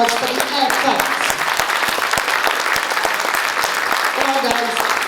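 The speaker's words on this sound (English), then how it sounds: "can we have a massive round of applause for the efforts?" A crowd claps steadily and enthusiastically, dense applause sustained throughout at fairly close range.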